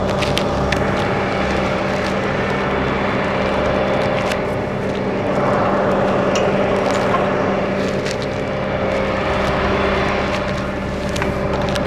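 A parked tractor with its PTO locked runs at a steady hum, a constant engine drone with faint rattles and knocks throughout, heard during a summer hay cut.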